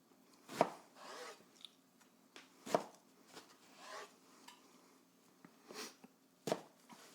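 A knife cuts vegetables into bâtonnet strips on a board, a handful of distinct, fairly quiet chops spaced irregularly with softer scraping between them, no voices.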